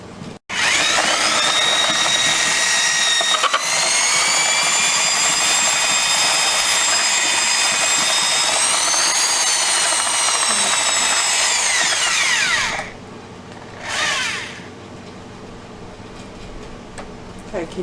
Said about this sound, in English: he's got the corn on his drill again, and he's going to put it up and down in this thing right here